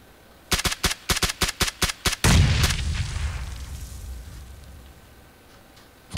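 A frag grenade explodes in a video game with a heavy boom and a long rumbling decay, coming right after a rapid string of sharp gunshots.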